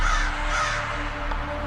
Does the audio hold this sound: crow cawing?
yes